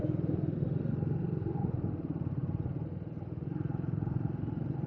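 A Triumph Speed 400 motorcycle engine runs steadily nearby with a low, pulsing rumble and some mechanical clatter, holding an even level throughout with no talking.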